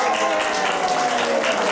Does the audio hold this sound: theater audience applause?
yes